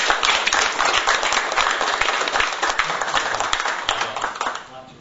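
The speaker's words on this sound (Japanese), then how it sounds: "それから働いてくださった皆様方に感謝の拍手を送りましょう" An audience applauds at a gathering honoring the facility's builders and the town: thick, continuous clapping from many people, loud at first and tapering off toward the end, with some voices mixed in.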